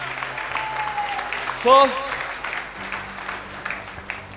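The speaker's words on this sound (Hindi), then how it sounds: "एक बार जोरदार तालियां होनी चाहिए दोस्त, जोरदार।" Audience applause at a Vestige Success Fest gathering, a steady wash of clapping across the whole stretch, with a voice rising briefly above it partway through.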